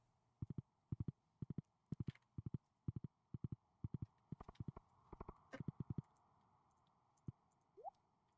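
Hooves clip-clop from a horse being ridden in the farming video game Stardew Valley, quick rhythmic clusters of soft hoofbeats for about six seconds before they stop, followed by a short rising tone.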